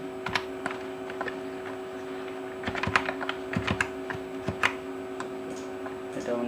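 Rapid clicking keystrokes on a computer keyboard come in uneven bursts over a steady electrical hum while a bill for a Kali Puja receipt is typed up.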